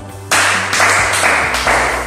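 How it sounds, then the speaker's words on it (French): A roomful of people clapping at a sales training seminar, dense steady applause starting abruptly and sustained loud and close for a couple of seconds. "Applaudissez encore."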